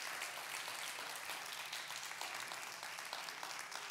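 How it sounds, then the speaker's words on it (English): Congregation at a church fellowship gives the ladies a round of applause, a faint, even wash of many hands clapping with no talk over it. "Give yourselves a good round of applause"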